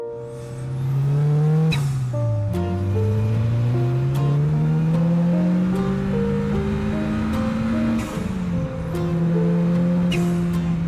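A Ford Raptor truck engine revving while driving, loud and close, rising through gears with a drop at each shift, the tone climbing steadily under continuous engine roar, no talking.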